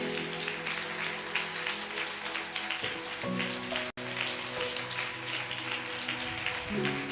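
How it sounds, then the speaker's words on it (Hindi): Sustained, dense clapping from a congregation during a church sermon fills the space over a steady musical backing. The applause stays loud and even and cuts off briefly midway before resuming. "क्या हम जोर से जीवित परमेश्वर के लिए ताली बजा सकते हैं?"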